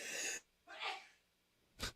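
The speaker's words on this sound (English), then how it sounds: "Oh no, I'm gonna sneeze." A single sharp sneeze bursts out near the end, preceded by a couple of breathy inhales.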